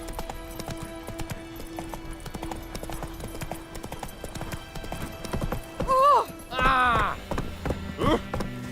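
Roach, a horse in the video game The Witcher 3: Wild Hunt, clops along in quick, steady hoofbeats, with sharp whinnies breaking in near the end.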